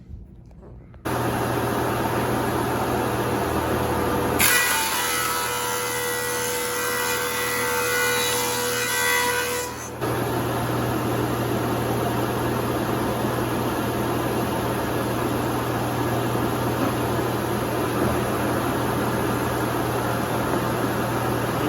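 A woodworking machine runs ukulele side boards held on a carrier board, a steady loud mechanical roar with a denser, harsher burst of cutting noise for several seconds in the middle before settling back to the running hum.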